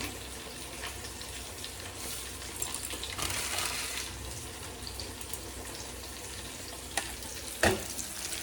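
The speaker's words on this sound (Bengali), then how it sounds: "এদিকে দেখুন আলুগুলো সুন্দর করে ভাজা করে নিচ্ছি" Potatoes fry in a pan with a soft, continuous sizzle and hiss at low level, broken by a couple of brief clinks near the end.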